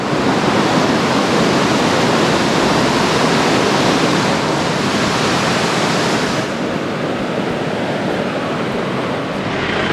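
Baspa river flowing at Sangla, a loud, continuous broadband rush of mountain water that stays steady throughout, with no voices.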